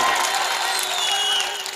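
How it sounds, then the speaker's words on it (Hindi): Audience applause at a mushaira poetry gathering in Rawana Shikarpur: a dense, hissy wash of many hands clapping together with crowd noise, loud and continuous, tapering slightly at the end. "तालियां बजाएं, बताएं मुझे।"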